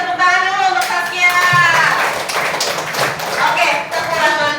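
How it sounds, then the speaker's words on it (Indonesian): Children in an Indonesian primary classroom break into a burst of applause, dense overlapping claps filling the room for several seconds with some faint young voices mixed in. "kasih tepuk tangan dulu untuk Saskia"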